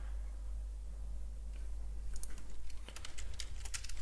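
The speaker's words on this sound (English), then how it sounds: "You do hear typing." A computer keyboard goes quiet for about two seconds under a low hum, then bursts of quick, crisp key clicks patter close by in irregular runs while live chat alerts are typed.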